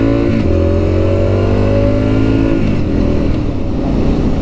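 Triumph Street Scrambler motorcycle accelerating, its engine revving loudly and close by with rising then shifting tones as it picks up speed.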